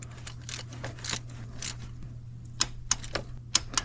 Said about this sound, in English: I'm torquing these bolts to 106 inch-pound.